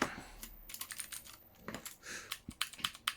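Rapid, uneven key clicks from typing on a computer keyboard attached to a Panasonic CF-19 Toughbook, close and fairly quiet, with irregular bursts of keystrokes and no voices.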